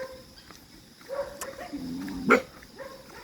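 Several dogs bark and yelp at a moderate distance along a road in Perez, Calauan, Laguna, short scattered calls with one louder bark near the end.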